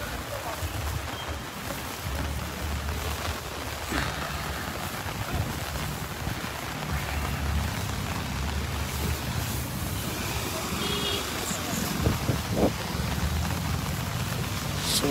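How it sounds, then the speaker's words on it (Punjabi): Rain falls on tarpaulins over tents at a farmers' protest camp in Delhi on a cold night, a steady patter mixed with wind and occasional louder drops, with voices in the background. "ਇਸ ਤਰ੍ਹਾਂ ਤਰਪਾਲਾਂ ਦੇ ਉੱਤੇ ਮੀਂਹ ਪਈ ਜਾਂਦਾ"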